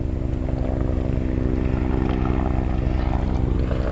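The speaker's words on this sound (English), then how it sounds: "We got a chopper." A helicopter flies overhead, its steady rotor and engine drone loud and continuous, holding level throughout without any talk.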